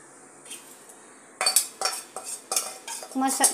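Spice powders, asafoetida, cumin, garam masala, fennel and coriander, frying in oil for a poha chivda, stirred with a metal spoon that scrapes and clinks against the pan in quick repeated strokes over a faint sizzle.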